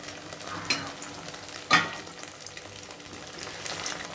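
Pieces of cabbage-made paneer fry in a pan with a soft, low sizzle, punctuated by two sharp utensil scrapes or stirring clatters near the start, and no speech.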